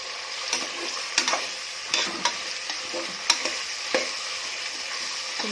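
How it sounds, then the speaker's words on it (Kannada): Vegetables fry in hot oil for palak pulao, giving a steady soft sizzle broken by close, sharp stirring clicks and scrapes against the pan. "ತರಕಾರಿನೆಲ್ಲ ಹಾಕ್ಕೊಂಡು ಚೆನ್ನಾಗಿ ಫ್ರೈ ಮಾಡ್ಕೋಬೇಕು ಎಣ್ಣೆಲಿ"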